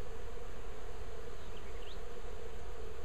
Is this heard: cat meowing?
no